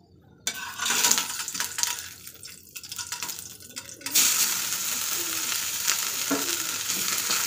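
Grated carrots cooking in ghee in a pan for carrot halwa, a steady broadband sizzle that swells louder midway and continues alone with occasional stirring scrapes.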